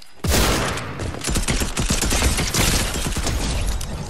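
Rapid gunfire from the Fortnite video game during a one-on-one match, loud dense bursts of shots and clatter starting abruptly and continuing without pause, no talk.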